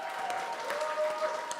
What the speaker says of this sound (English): Would you give the Benaroyas online a big round of applause?